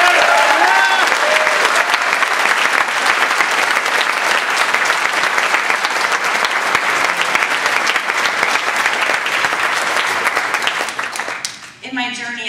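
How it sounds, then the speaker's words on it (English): An audience at a Toastmasters conference speech contest claps loudly and continuously for several seconds, the applause tapering off near the end as a voice begins. "So give her a round of applause."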